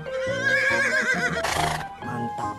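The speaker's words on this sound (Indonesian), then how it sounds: "ternyata ini ada seekor kuda zebra" A zebra gives a loud, close whinny, a long wavering call that rises and falls with shaky harmonic tones and ends in a few rough, breathy bursts, with no talking.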